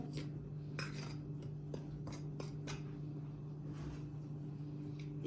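A spoon clinks and scrapes against a bowl while mixing a dessert spoon of salt with a dessert spoon of yeast for thin-crust pizza dough, several short taps over a steady low kitchen hum.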